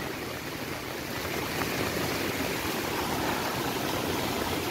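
Floodwater pours steadily past a flooded plot after a night of rain, making a loud, unbroken rushing wash with no voices.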